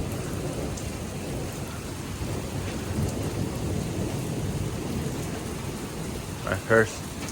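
A powerful mesoscale convective thunderstorm: steady rain patters over a low rolling rumble of thunder, with a brief louder crack near the end.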